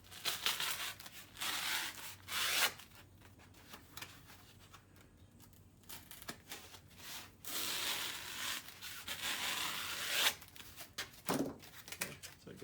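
Foam pool noodles being cut in half, quiet close crinkly rasps and squeaky tearing strokes coming in irregular bursts with pauses between them.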